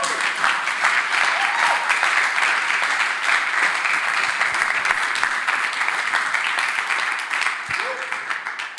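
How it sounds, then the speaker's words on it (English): An audience applauds after a talk on privacy, a dense, even burst of clapping that holds strong for several seconds and then begins to thin and fade near the end. "Applause."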